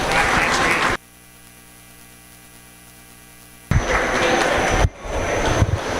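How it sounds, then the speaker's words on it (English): An audience at a swine show applauds in a dense burst of clapping that cuts off abruptly, leaving a quiet electrical hum, then a second wash of noisy clapping returns and carries on to the end. "Let's give them a nice round of applause."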